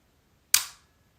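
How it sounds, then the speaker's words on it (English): A Canon FT QL film camera's shutter fires once, a single sharp close mechanical snap that decays quickly in a quiet room. "right now I'm holding down the shutter button."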